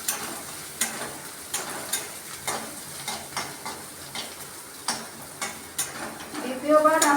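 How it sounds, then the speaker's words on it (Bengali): Garlic and onion fry in oil left over from frying lentil fritters, a soft steady sizzle broken by regular stirring scrapes of a spoon against the pan, close and fairly quiet. "রসুনটা ভেজে নিচ্ছি।"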